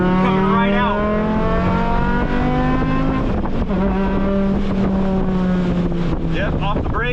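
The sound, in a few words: Mk5 Jetta race car accelerating on track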